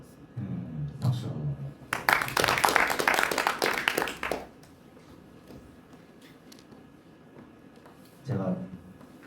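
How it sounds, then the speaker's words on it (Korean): An audience at a study session breaks into a short burst of applause, a dense patch of clapping lasting a couple of seconds between stretches of speech. "박수."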